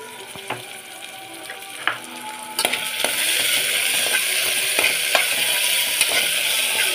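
Ginger garlic paste frying with tomato and onions in a hot pan, a steady close sizzle that swells halfway through, with occasional stirring clicks and scrapes and no voices.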